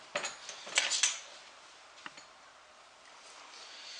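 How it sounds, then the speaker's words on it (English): Cut potato pieces for oven roasting tossed into a bowl make a quick cluster of light clattering knocks near the start, then a single soft tap and quiet rustling afterward. "So Justin, I'm just going to throw these in the bowl"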